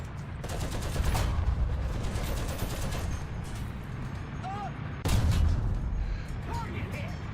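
Dense game gunfire rattles continuously through a battle, with a sharper burst near the five-second mark, while a player speaks over it.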